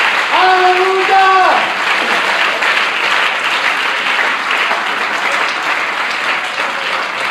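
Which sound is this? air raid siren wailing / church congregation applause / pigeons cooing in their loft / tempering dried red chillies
church congregation applause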